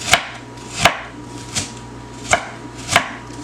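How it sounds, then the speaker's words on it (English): A knife chops a whole onion on a cutting board with five sharp, evenly spaced strikes, close and distinct, with no voices. "So let me cut up my onion."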